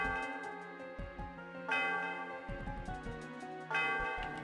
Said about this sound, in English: The sound of the bell reverberates through the area.